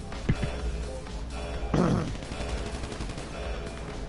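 Gunfire in the GTA video game, a quick volley of shots with one louder burst near the middle, playing under a continuous game background while a voice speaks briefly.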